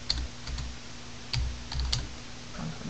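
Keys are typed on a computer keyboard while working in Word 2010, a quick run of light taps in small irregular clusters, close and clear, with no talking.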